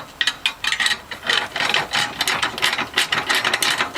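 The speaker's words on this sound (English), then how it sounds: "go ahead and make these nuts a little bit snug here first, all the way around" A hand ratchet snugs nuts during a TUF-1 installation, working corner to corner. Its clicks come in quick, loud bursts of pawl ratcheting, one run after another, close up and with no talking.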